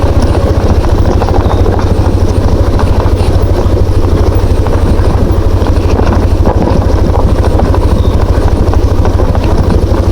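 A Yamaha NMAX motor scooter engine runs steadily and loud on a rough, bumpy road, with constant wind buffeting the microphone throughout.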